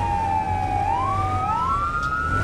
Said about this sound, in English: I actually want to turn down the sirens a little bit here.